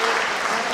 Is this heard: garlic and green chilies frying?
no